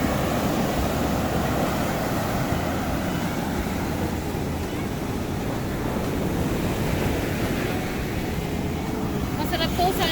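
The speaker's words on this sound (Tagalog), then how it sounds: "galit na galit yung alon" Rough surf crashing on the beach at San Juan, La Union, a continuous loud roar of breaking waves with heavy wind buffeting the microphone throughout.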